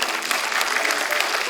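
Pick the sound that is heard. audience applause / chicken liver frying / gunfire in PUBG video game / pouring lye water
audience applause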